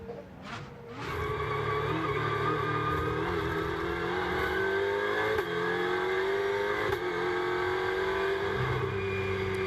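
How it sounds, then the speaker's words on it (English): A Mercedes GT2 race car at Algarve qualifying accelerates hard through corners, its engine roaring steadily with rising and falling revs and brief lifts, loud and continuous after a short quieter start. "have another look at the Mauro Ricci Mercedes coming through"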